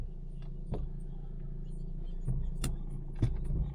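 A high-spec car with cruise control idles steadily just after start-up in a car park, a low engine rumble running throughout with a few brief clunks and knocks near the car.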